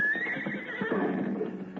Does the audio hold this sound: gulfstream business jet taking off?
no